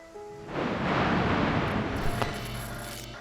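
A broad rushing roar swells in quickly and sustains like a heavy downpour, with a low thunder rumble underneath that slowly fades.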